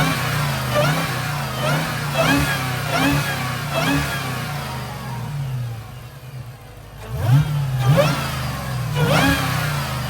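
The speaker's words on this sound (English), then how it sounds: "hear how the car sounds with this stock air box with a K&N filter" Dodge Hellcat V8 fitted with a K&N filter inside the stock air box, revving up repeatedly in loud rhythmic pulses, with a short lull before the engine climbs again.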